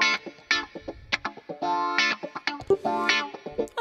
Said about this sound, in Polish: nie wiem, na przykład Disco Wah, które brzmi tak